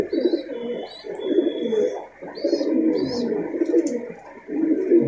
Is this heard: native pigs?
no